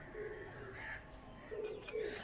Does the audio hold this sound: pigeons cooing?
yes